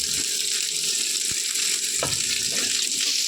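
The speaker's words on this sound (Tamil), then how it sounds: "வெங்காயம் கொஞ்சம் நேரம் வதக்கலாம்." Garlic and onion sauté in hot oil in a pan for a Tamil greens kadaiyal, a close, steady sizzle with occasional light scraping and stirring.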